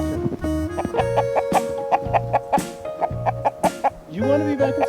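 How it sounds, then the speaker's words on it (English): Rooster clucking outdoors in the snow during an early snowstorm, repeated short clucks in an uneven rhythm, close by, with a person talking at times. "Such a brave rooster."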